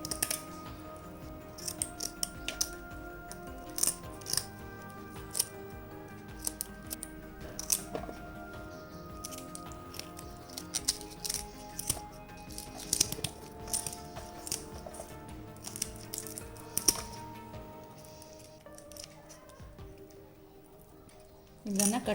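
Muru fish being cut for a Mangalore-style masala ghee tawa fry, with repeated close snipping and slicing clicks and light clinks while a person talks throughout.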